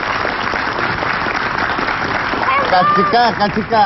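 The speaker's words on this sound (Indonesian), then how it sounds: "Wah, Masya Allah, tepuk tangan" Studio audience on an Indonesian talk show clapping in a steady, close roar, with cheering and voices rising over the applause toward the end.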